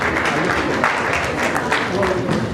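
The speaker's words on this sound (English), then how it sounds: "So a big round of applause, ladies and gentlemen, for both of them." An award ceremony audience gives steady applause for two honourees, a dense wash of clapping with voices audible beneath it throughout.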